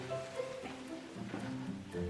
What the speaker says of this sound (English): Nice that it's raining.